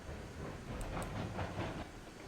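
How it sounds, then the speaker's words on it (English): Locomotive in the RailRoads Online game gathering speed, a steady rumbling rail drone with faint rhythmic clatter and a couple of brief high hisses, heard alone without talk. "This locomotive really does just accelerate."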